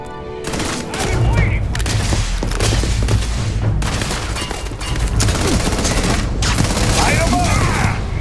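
Gunfire in the space game Starfield: a dense fusillade of rapid shots and thuds runs loud and continuous for the whole stretch, with shouted voices mixed under the battle.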